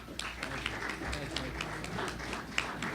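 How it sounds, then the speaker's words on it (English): Audience applause at a retirees association address, a steady patter of clapping hands through the room. "a round of applause to our guest speakers, from Lauren to Gary"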